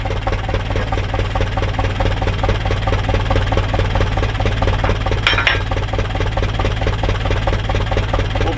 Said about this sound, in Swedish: Och sen puttar jag fram traktorn.